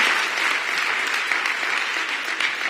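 Audience applause fills a public event at an affordable housing opening, a dense steady clapping from a crowd, fairly close and sustained throughout.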